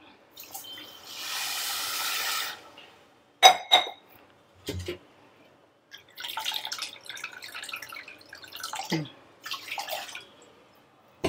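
A cup of water is poured onto sugar in a kitchen while making wheat-flour badusha, giving a steady splashing pour of about two seconds, followed by clinks of utensils and brief scraping sounds.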